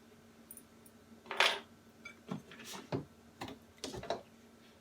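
Scone dough for keto low-carb cinnamon scones set down onto a parchment-lined baking pan, heard as a few faint, short taps and light clinks of the pan in a quiet kitchen.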